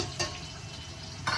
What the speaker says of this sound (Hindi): ये गया जीरा, ये गए प्याज